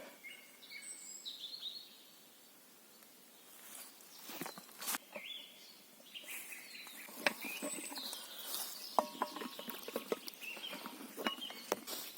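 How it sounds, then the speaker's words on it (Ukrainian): Birds sing and chirp in a spring forest, scattered calls near and far over quiet background, with occasional rustling and tapping sounds close by. "понасолоджуватися співом пташок"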